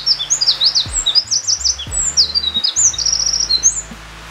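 Wild birds call during a forest walk in northern Harima, Hyogo, with repeated high chirps and twittering phrases coming steadily over a low rumbling background for several seconds.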